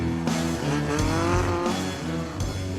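A Super Fórmula race car brakes hard into a corner after the main straight. Its engine note drops loudly and close, with squealing, skidding tyres layered over the dropping engine tone, and no speech.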